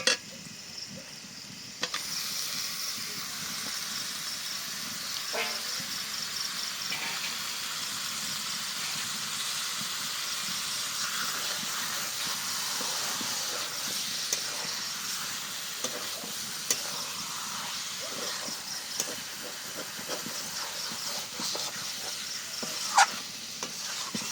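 Washed chicken pieces go into hot oil with a browned cashew-spice base for chicken do pyaza, giving a steady close sizzle and frying hiss with occasional stirring scrapes throughout, no voices.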